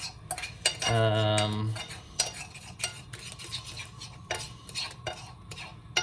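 Eggs for a French omelet being stirred in a pan, with scraping, clinking utensil sounds against the pan and a brief louder rattle near the start, no talking.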